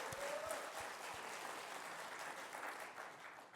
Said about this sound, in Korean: 다시 한번 합시다. 박수 하세요.